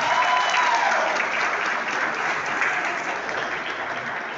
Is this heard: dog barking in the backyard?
no